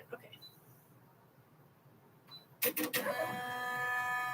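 An embroidery machine stitches rounds on fabric for a bag, starting with a few faint beeps and then a loud, fast mechanical rattle and whir that keeps running.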